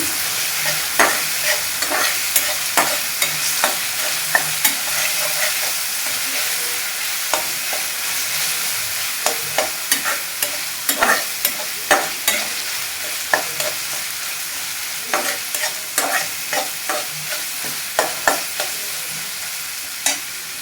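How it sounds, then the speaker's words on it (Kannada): Masala for tomato rice fries in a pan under a steady sizzle, while a spoon scrapes it in regular, sharp strokes every second or so. "ಒಂದು ನಿಮಿಷ ಚೆನ್ನಾಗಿ ಹಸಿ ವಾಸನೆ ಹೋಗೋ ತಕ್ಕ ನಾವು ಉರಿಬೇಕಾಗ್ತದೆ."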